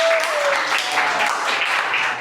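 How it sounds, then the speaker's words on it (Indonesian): A class of students claps together in a steady burst of applause, with a faint whistle-like tone at the start. "Bisa dengan tepuk tangan dulu untuk kelompoknya."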